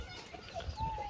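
Pigeons kept at a farmhouse among goats and dogs give soft, brief bird calls, faint and somewhat distant against a quiet outdoor background.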